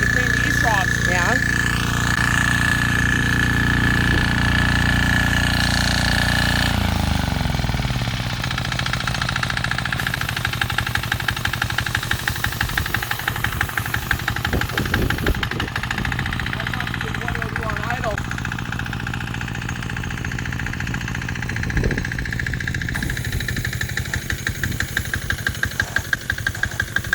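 A 4HP diesel pressure washer engine idles with a steady, loud mechanical drone and rhythmic chug, running continuously throughout under intermittent voices.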